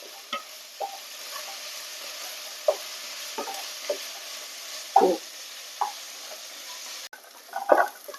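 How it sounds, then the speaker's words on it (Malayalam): Onions sautéing in a pan for a chicken stew give a quiet, steady sizzle. Scattered spatula clicks and scrapes break through it, with no voices. "സവാള ഏകദേശം വഴന്നു വന്നിട്ടുണ്ട്."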